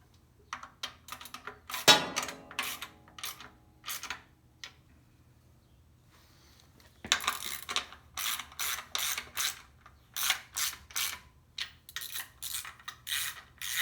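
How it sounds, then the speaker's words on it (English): A hand ratchet snugs up bolts on a clutch assembly, quiet rapid clicking bursts close by, a short spell around two seconds, then a steady run of repeated ratcheting strokes after a brief gap, without speech. "we'll snug everything up with a ratchet"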